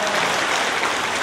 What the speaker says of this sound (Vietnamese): cho một tràng vỗ tay thật lớn để chúng ta kính chào quý đức cha